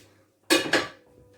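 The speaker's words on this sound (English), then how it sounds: "And of course, a frying pan." A frying pan handled in a kitchen, two quick metallic knocks and clatters close by, then a short fading ring and quiet.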